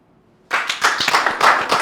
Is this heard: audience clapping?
yes